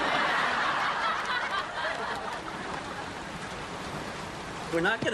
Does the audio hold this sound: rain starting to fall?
yes